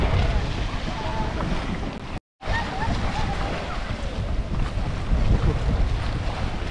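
Strong gusting wind and choppy waves around a kayak on Lake Kenyir, loud buffeting rumble against the microphone with splashing water, broken by a brief cutout and overlaid with talk.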